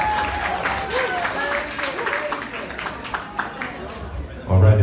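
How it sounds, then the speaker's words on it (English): Wedding guests applaud a matron of honor at the reception, a steady moderate patter of many hands clapping under some voices, ending with a louder thump. "a very warm round of applause for your matron of honor tonight."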